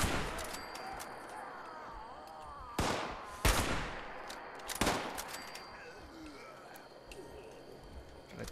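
Rifle gunfire in Fallout 76 rings out as a few sharp, loud shots spaced a second or two apart, set over a busy game backdrop of chirps and ambient tones.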